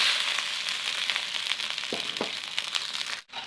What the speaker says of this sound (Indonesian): Kita masukkan irisan bawang.